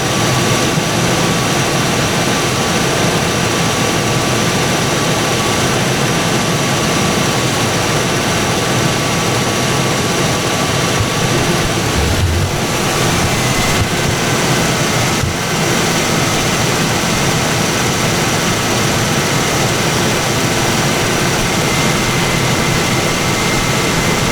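A 1992 Ford Explorer engine converted to run on propane idles steadily with a loud, constant drone, and a couple of brief bumps partway through.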